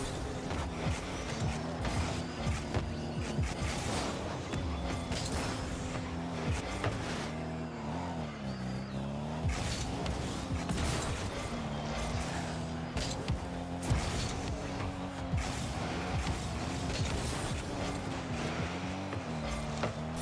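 Continuous car engine noise from a Rocket League match, a squeaky, high-pitched motor sound held steady throughout, mixed with busy game effects at a constant loud level.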